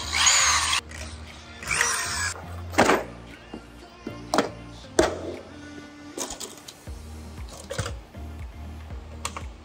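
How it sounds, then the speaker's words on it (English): Several short bursts of drilling out eighth-inch Cleco holes in an aircraft wheel pant mounting plate, each a few seconds long, separated by clicks and handling noises, fairly close. "But first I need to drill out the eighth inch Clico holes"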